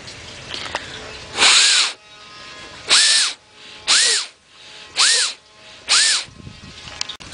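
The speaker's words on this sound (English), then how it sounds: "I don't think I'm going to be able to drill too much further, because half the way down the carrot is about the length of the drill bit" A power drill bores into a carrot in five short, loud bursts, each whine rising and falling, separated by brief pauses.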